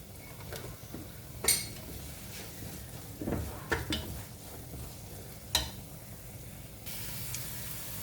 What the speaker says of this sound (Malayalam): അരിഞ്ഞു വെച്ച സവാള ഇട്ട് കൊടുക്കുക.